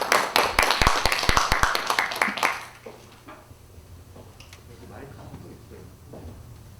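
Loud, sparse hand claps from a small gathering at an art museum docent training lecture ring out for about two seconds, then stop as a voice begins talking.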